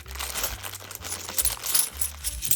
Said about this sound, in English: It's normally the point where I spill all the coins all over the table.